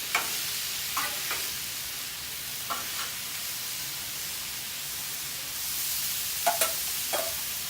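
Butter and sauce sizzle in a hot pan for Tijuana-style tacos, a steady close hiss broken by a few sharp scrapes and stirring clicks.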